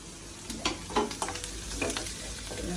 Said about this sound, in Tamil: வதங்கட்டும், நல்லா வதங்கட்டும்.